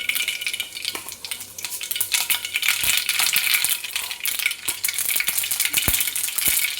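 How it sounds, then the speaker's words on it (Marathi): Cumin and mustard seeds crackle and sizzle in hot oil in a pan, a dense bright spatter with scattered sharp pops, close and steady throughout with no talk. "या तेलात आपण आता थोडी जिरं मोहरी टाकून घेणार आहे."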